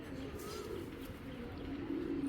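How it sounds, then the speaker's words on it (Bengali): A pigeon with uncommon ash-coloured eyes coos in soft low murmurs, faint and close, under a man's speech and steady background noise. "খুবই আনকমন চোখের একটা কবুতর"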